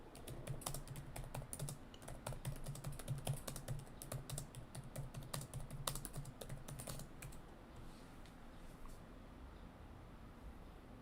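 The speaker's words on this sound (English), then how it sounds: "I hate my typing abilities sometimes." Rapid typing on a computer keyboard, with dense clicking keystrokes in bursts for about seven seconds before thinning out to a few scattered taps, heard close and alone.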